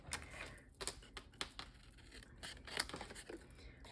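Scissors fussy-cut around a stamped paper card piece, giving quiet, close snips and rustling paper crinkles in an uneven run of small cuts.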